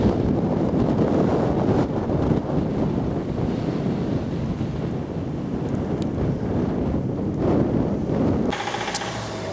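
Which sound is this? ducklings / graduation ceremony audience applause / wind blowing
wind blowing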